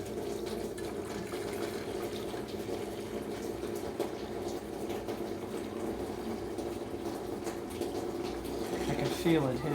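Coolant pours from the bottom of a car radiator on an MK4 Jetta during a flush, a steady splashing gush of liquid that runs throughout at moderate level, with someone speaking over it.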